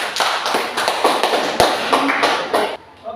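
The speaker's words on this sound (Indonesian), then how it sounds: "kita berikan aplaus buat kelompok Patimura" Students in a classroom applaud the Patimura group, a lively round of clapping with uneven bursts that fades out near the end.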